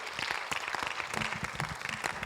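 A church congregation applauds in praise to the Lord, a steady, dense wash of clapping with a few louder individual claps, at moderate distance.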